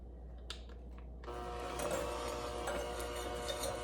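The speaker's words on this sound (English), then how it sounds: "I'm going to get my mixer, and I'm just going to kind of mix that up a little bit" An electric hand mixer starts up and whirs steadily through softened butter for a lite pumpkin pie, a continuous close mechanical hum following a few faint clicks and taps.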